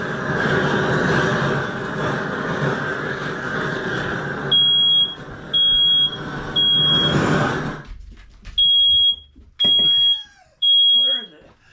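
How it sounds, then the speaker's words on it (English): A smoke alarm, set off by oven smoke while cooking lasagna, beeps in short, shrill bursts: three over a steady roar of background noise, then three more, loud and clear, in near silence. "you want to ventilate whatever room you're in because this will set off the smoke alarm"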